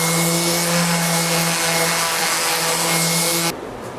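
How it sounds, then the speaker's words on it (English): A power sander runs loud and steady with a whining hum while smoothing a glued-up panel of oak boards. It is close and continuous, then cuts off abruptly near the end. "so I'm just smoothing it out with a sander"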